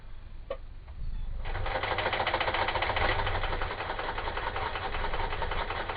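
Close, loud sewing machine pushing through thick baby bib fabric, its rapid pulsing needle rhythm running continuously after a short quieter start, with no talking over it.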